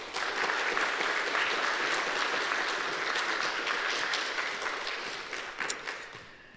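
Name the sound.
audience applause welcoming lecture speaker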